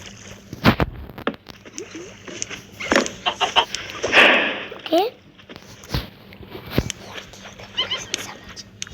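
A chicken clucks in a video game, with short calls scattered through the clip under steady, excited talking.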